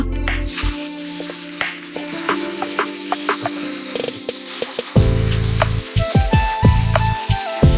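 Five or six red chillies frying in a pan, a loud continuous sizzle close by with occasional scrapes and clinks of stirring.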